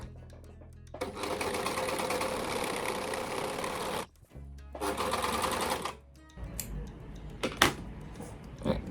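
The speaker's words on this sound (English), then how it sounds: "I'm going to take my curved fly piece and I'm going to serge this edge here" A serger overlocks the edge of a curved linen fly piece for a zipper fly, its motor running in fast steady bursts with short pauses between runs, close and clear.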